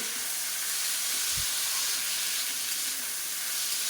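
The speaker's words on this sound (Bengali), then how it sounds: "চালটাকে ভিজিয়ে রেখেছিলাম আধা ঘন্টা তারপরে এটাকে ঝরিয়ে জলটা ঝরিয়ে ভালো করে একটু ভেজে নিচ্ছি ঘিয়ের ভেতরে" Soaked, drained rice fries in ghee for pulao with a steady, bright sizzle and hiss close by, one soft low knock briefly heard, and no voices.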